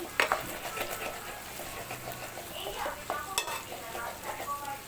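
Okra sizzles quietly in a pan while a utensil stirs and scrapes against the metal in short, uneven strokes.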